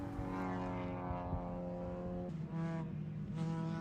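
Spec Miata race cars, with a Spec MX-5 nearby, on the front straight at Buttonwillow circuit, engines droning loudly with strong harmonics as several cars pass in quick succession, pitch shifting as each goes by.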